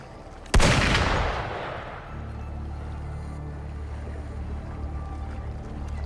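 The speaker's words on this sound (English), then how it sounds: "Gunfire!" A single sharp, loud gunshot from the video game Wuthering Waves cracks out and echoes away, followed by a low rumbling ambience that continues steadily.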